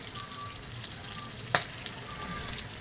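Whole cumin, a bay leaf, dried red chilli and whole garam masala sizzle softly in hot oil, a faint, even hiss broken by a single sharp click, with no one speaking.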